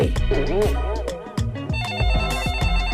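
A telephone rings loudly and repeatedly in a Bengali comedy cartoon, its bell tone sounding in quick bursts over music and cartoon effects.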